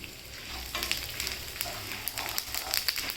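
Cumin, urad dal and fennel seeds sautéing in hot oil in a pan for drumstick-leaf chutney, a close crackling sizzle with scattered spattering pops and stirring, fairly quiet, with no voices.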